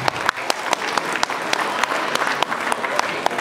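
An audience at a Pongal festival event claps steadily, a dense continuous round of applause with sharp individual claps standing out.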